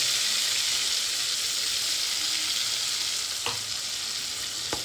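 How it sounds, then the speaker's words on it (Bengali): A paste of tomato, onion and ginger fries in a pan, a loud continuous hiss and sizzle with a couple of sharp spatula clicks near the end. "এবার এর মধ্যে আমি দিয়ে দিচ্ছি আগে থেকে পেস্ট করা টমেটো, পেঁয়াজ আর আদা মিশ্রণটা"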